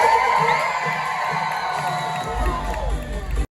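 Rodeo crowd in the stands of a new arena, a continuous roar of cheering and whooping voices at steady volume, with a low rumble entering near the end before an abrupt cut.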